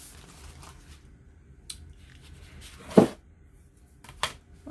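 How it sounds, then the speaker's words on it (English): Scissors snipping through a vintage paper sewing pattern, a few sharp, separate cuts with one louder snip near the middle, close up against a quiet room. "I'm going to cut that off"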